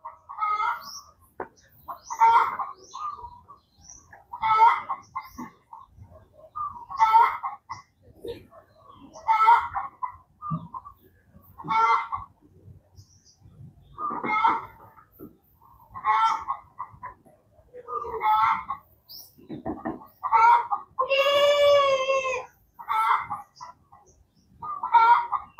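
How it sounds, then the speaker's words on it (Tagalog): Chickens and a duck together, a close run of regular clucking calls in short bursts, ending in a longer drawn-out squawk, with no speech over them. "Tingnan yung pato at saka manok ko."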